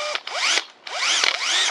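A Bosch PSB 1800 Li-2 cordless drill spins up in two bursts with a brief pause between, its motor whine rising and falling sharply, close and loud with no talking.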